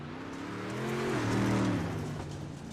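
Dirt-track race car engine in iRacing, the number 82 car on the back straightaway into turn 3 at Lincoln Speedway, droning steadily and rising in pitch as it revs and passes close by, loud throughout with no talk.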